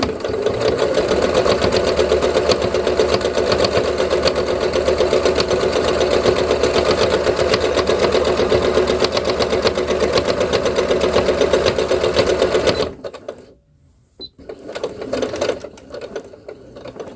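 A sewing machine stitches fabric in a steady, fast, continuous whir for about thirteen seconds, then stops abruptly, leaving quieter handling noises.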